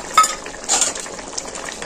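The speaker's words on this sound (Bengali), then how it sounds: "দেখুন এই যে এখানে আমি পোস্তকে বেটে রেখেছিলাম দিয়ে দিচ্ছি।" Ground poppy seed paste goes into a cauliflower and mackerel curry cooking in a pan, bringing a couple of short scraping, stirring clatters over a faint sizzle.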